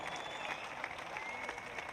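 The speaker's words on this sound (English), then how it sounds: "Let's give her one more round of applause" A crowd at the 2021 Dubai CrossFit Championship keeps up faint, distant applause, a steady wash of clapping with no break.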